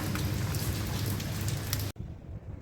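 Heavy rain pours down during a storm in Dubai as a dense, steady roar of drops hitting surfaces, which cuts off abruptly partway through and leaves a quieter, patchy remainder.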